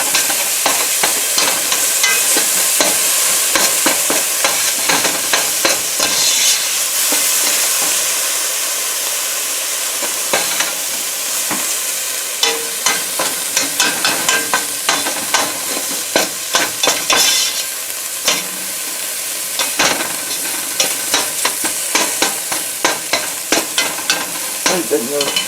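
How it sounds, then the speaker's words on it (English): Smoky collard greens sautéing in a hot pan, a loud, steady sizzle and hiss throughout, broken by repeated scraping strokes of a utensil stirring the greens. "Okay, saute for 2 minutes."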